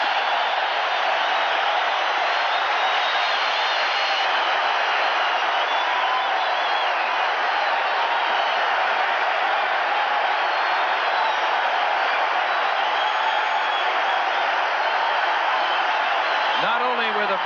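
A stadium crowd of fans at a Monday Night Football game applauds and cheers a player introduction, a dense, steady roar of clapping and voices that stays loud and unbroken throughout.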